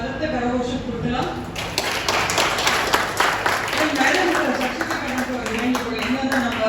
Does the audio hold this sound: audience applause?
yes